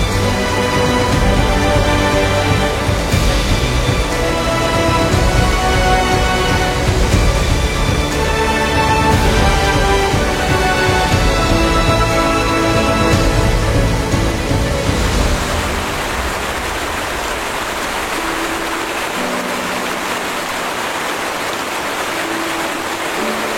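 Yosemite National Park waterfalls roar with a dense, continuous rush of falling water that stays loud and steady throughout, easing slightly partway through, with no voices.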